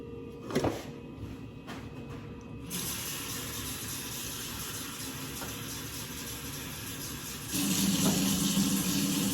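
Water pours steadily into an Instant Pot inner pot holding a trivet, a soft rushing flow after a couple of clicks and knocks, getting louder and fuller near the end.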